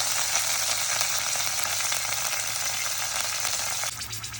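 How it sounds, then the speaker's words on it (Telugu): Onions, curry leaves and green chillies fry in hot oil, a loud, dense, steady hiss of sizzling up close that eases slightly near the end, with no voices. "ఆనియన్స్ ఇవన్నీ ఫ్రై చేసుకోవాలి."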